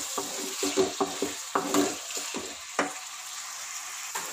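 Prawn gravy frying in a pan while being stirred, a steady sizzle with a series of close spoon scrapes and knocks against the pan in an uneven rhythm, thinning toward the end, no talking.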